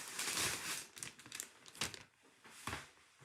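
Plastic packaging from a craft supply order crinkles and crumples in close bursts while being unwrapped, with sharper tearing-like rustles at intervals and no talk.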